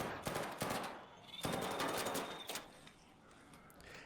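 Gunfire in the video game ARC Raiders, a few sharp distant shots in quick bursts followed by a longer tail, faint overall against a quiet ambient background.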